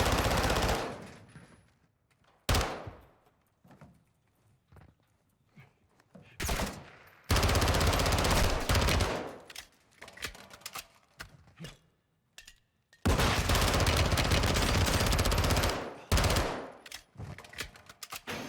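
Bursts of rapid automatic gunfire in Call of Duty: Modern Warfare II, long loud volleys separated by quieter gaps with scattered single shots.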